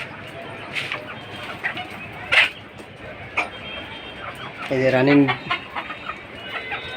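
Laying hens on a small farm give a short run of clucks partway through, with scattered faint clucks and rustling around it while a person speaks briefly.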